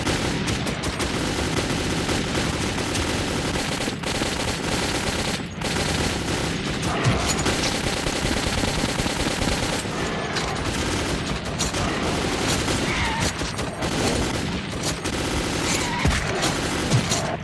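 Continuous gunfire in the video game Metro 2033, with dense bursts of automatic fire and shots overlapping loudly for the whole stretch, as a sustained firefight with no spoken voices.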